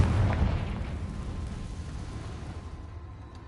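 Confringo fire spell blast in the Hogwarts Legacy video game: a single deep boom at the start that rumbles and fades away slowly over a few seconds, with no talking.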